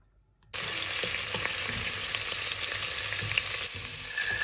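Olive oil, garlic, chili and anchovies sizzle steadily in a pan, starting abruptly with a loud, continuous frying hiss and occasional stirring clicks, no voices.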